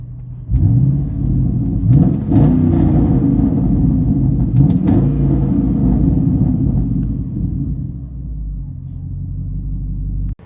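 A 2007 Chevy Silverado's 5.3L V8 with true dual straight-pipe exhaust rumbles loud and steady from inside the cab, with a few revving swells early on before settling into a deep, continuous idle drone.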